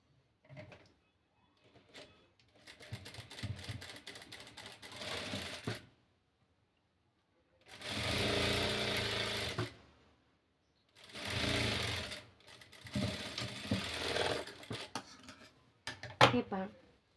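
Sewing machine stitching a blouse seam in several bursts, loud rapid mechanical whirring runs separated by pauses, with faint handling clicks in between.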